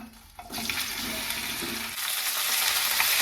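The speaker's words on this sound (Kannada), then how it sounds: "ಇವಾಗ ಇದ್ರೊಳಗಡೆ ನಾನು ಕಟ್ ಮಾಡಿ ಇಟ್ಕೊಂಡಿರೋ ಬೆಂಡೆಕಾಯಿನ ಹಾಕೊಳ್ತೀನಿ." Cut okra (bhindi) hits hot oil in a pan and sets off a loud, steady, broadband frying hiss that swells after a brief moment and then roars on without a break, close up and with no talking.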